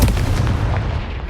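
Confringo fire spell blast in Hogwarts Legacy, a short booming burst with a heavy low thump that decays quickly over about a second.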